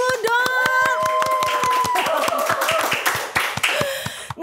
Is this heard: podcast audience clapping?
yes